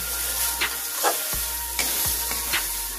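Grated potato stirred into a fried spice mixture in a pan while making cabbage paratha filling, with low frying sizzle and several scraping stirs of a spoon against the pan, close and steady.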